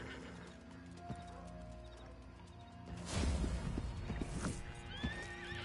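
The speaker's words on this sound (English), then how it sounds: "Stables, horses." Horses at a stable in the Red Dead Online video game, with whinnies and neighs over steady clip-clop hooves, the activity growing louder and busier midway through.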